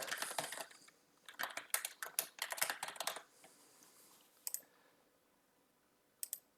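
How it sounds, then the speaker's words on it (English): Fingers typing a name on a computer keyboard while installing a Windows game on Linux Mint: close, quiet bursts of quick key clicks, pausing, then a few isolated taps near the end. "Then just type in the name."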